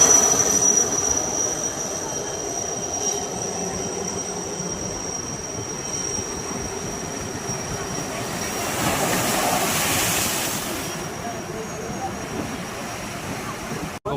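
A train running through Mumbai near Marine Drive, a steady rumbling roll with a thin high wheel squeal, swelling louder as it passes by close, with faint voices underneath.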